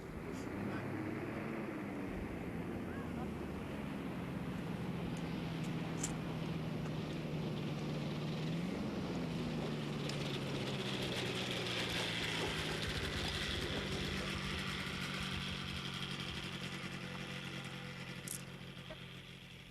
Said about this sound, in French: Enfin, les moteurs rugissent et les premiers essais ont lieu.